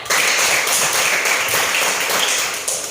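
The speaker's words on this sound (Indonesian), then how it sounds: "Tepuk tangan." Students in a classroom break into dense applause, many hands clapping together in a loud, continuous burst that fades slightly toward the end.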